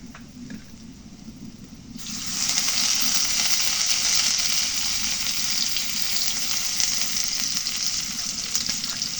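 Oil poured into a hot wok (kadai) for cooking potatoes and onions bursts into a loud, steady sizzle that starts abruptly and keeps crackling evenly close by.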